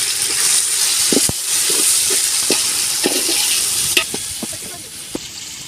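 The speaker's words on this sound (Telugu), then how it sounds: "ఇప్పుడు మనం టమాటాలు వేసుకుందాం" Tomatoes sizzle loudly in a pan with golden-fried onions and green chillies for a country-chicken dum biryani cooked outdoors under a tree in a field, a constant frying hiss broken by repeated scraping stirs of a spoon.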